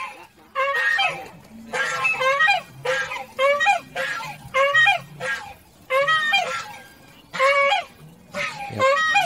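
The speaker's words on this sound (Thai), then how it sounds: "ข้างๆนี่ก็เป็นเสียงห่านนะครับ" Geese honk loudly and close in a run of repeated bursts at an agricultural museum in Nava Nakorn, Thailand, near cattle and buffalo, with brief pauses between the calls.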